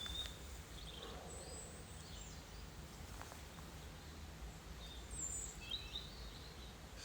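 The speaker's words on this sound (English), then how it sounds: "Just listening to the birds" Faint, scattered chirps of birdsong sound in woodland on a sunny day. They are distant and sparse over a soft, steady background hush.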